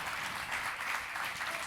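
Audience applause at the Talent en Boca 2024 talent show, a soft, fairly distant patter of clapping sustained throughout the short moment without a clear voice on top.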